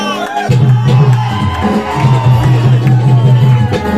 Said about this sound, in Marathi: किती लोकांना नमन आवडत असेल टाळ्या वाजवा